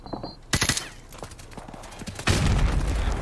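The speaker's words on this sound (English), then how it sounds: "Gaz sees some enemy in a building, opens fire." Rifle fire in Call of Duty Modern Warfare Remastered, sharp shots cracking close at first, a few scattered reports, then a dense burst of automatic fire at the end.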